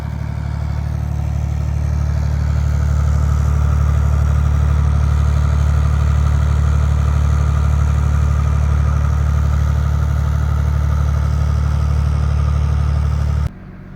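A motorboat engine runs beneath the floor of a pleasure boat, giving a loud, steady low rumble and drone for the whole stretch before it cuts off abruptly near the end.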